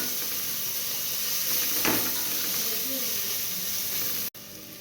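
Ginger garlic paste sizzling in a frying pan with browned onions, a steady hiss of frying that swells briefly with a wetter burst as the paste hits, then cuts off abruptly near the end.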